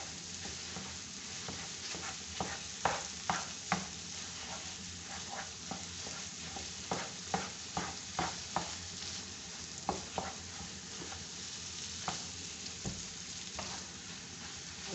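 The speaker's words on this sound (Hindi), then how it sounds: "जैसे जैसे हम चम्मच चला रहे ऑयल इससे साइड पे निकल रहे हैं और हलवे का कलर खूबसूरत होता जा रहा है।" A spoon stirs aloe vera halwa as it fries in oil, giving a steady soft sizzle punctuated by irregular light scraping clicks, fairly quiet with no talk.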